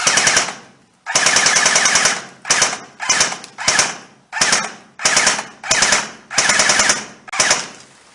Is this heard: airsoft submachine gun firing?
yes